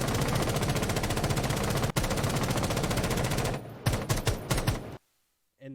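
Rapid automatic fire from an R4C assault rifle in Rainbow Six Siege, a dense, loud, continuous burst with a brief gap near two seconds, then several shorter bursts before cutting to silence.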